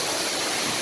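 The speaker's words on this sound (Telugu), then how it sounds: "ఇదే Koyyuru water fall, చింతాపాలెం water fall" Koyyuru waterfall near Chintapalem village by Paderu, a steady broadband rush of falling water that stays constant and loud, with no voices.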